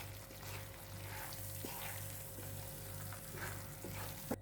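Egg pepper masala sizzles softly in a pan while it is stirred, a faint, even frying hiss marked by occasional light scrapes and clicks of the spoon.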